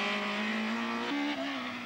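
A ten-year-old BMW M3 rally car racing in the 1996 Rallye de Hannut gives a steady, loud engine drone that climbs slightly in pitch, with a brief shift in tone near the end.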